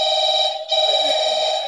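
A phone rings on stage in a high school girls' play, a steady electronic trill with bright, even tones, loud and close, briefly dipping midway before continuing alone.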